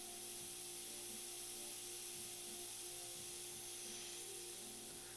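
Airbrush spraying paint in a steady, even hiss with a faint background hum, continuous and fairly quiet throughout.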